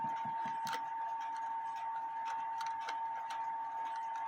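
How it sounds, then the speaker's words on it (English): The ratchet and click of a cuckoo clock mechanism give a quick run of small, dry clicks, close and crisp over a steady background tone, with no voice. "Sorry, it ratchets clockwise, and it going counterclockwise is when the click catches."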